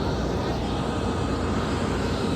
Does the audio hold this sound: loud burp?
no